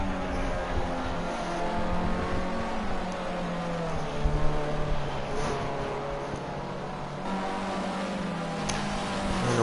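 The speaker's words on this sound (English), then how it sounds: "We can see Versal Blizzard and Nemesis warming up their tyres quite aggressively." Race cars in Project Cars 2 during a Formula C qualifying session, weaving to warm their tyres, with steady engine drone and occasional tyre squeal, loud and continuous throughout.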